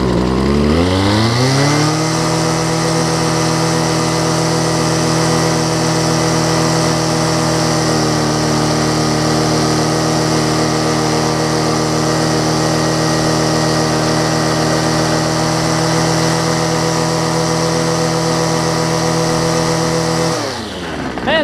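A Homelite ST275 string trimmer, fresh from a carburetor kit install, idles loudly and close up. It settles quickly from higher revs into a steady, even buzz that holds for about twenty seconds before cutting off.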